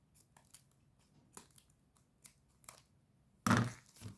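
Scissors snipping off excess material while decorating a Christmas pastry, a series of soft, quiet cuts at close range followed by a louder, crisper snip near the end.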